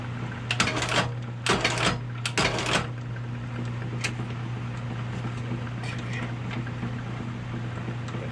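A sole being stitched onto a Ferragamo boot: three rough, rasping bursts of thread pulled through in the first few seconds, then a few faint ticks over a steady low machine hum.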